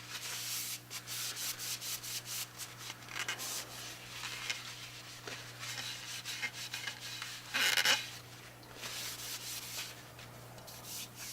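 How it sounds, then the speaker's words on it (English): A rag wipes excess off the wooden handle of a small forest axe in steady, close rubbing strokes that run throughout, with a brief louder scrub near the end. "I'm just going to take a rag, and I'm only going to wipe the excess off of the handle."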